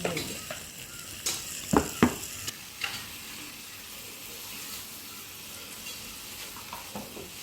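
A ladle stirs pulissery, a Kerala sour buttermilk curry, in a pan on the stove, with soft scraping strokes and a few sharper clinks of metal over a low, constant sizzle.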